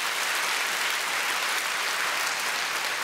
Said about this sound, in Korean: 박수 한번 다 같이 하시죠.